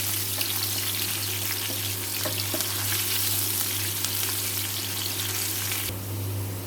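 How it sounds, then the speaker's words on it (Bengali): Chopped onions sizzle and fry steadily in hot oil in a pan, a continuous close crackling hiss with occasional spoon stirs and a low steady hum underneath, no talking. "এখন পেঁয়াজ কুচুগুলো দিয়ে দিচ্ছি পেঁয়াজগুলো একটু লাল করে ভেস্তা করে নেবো"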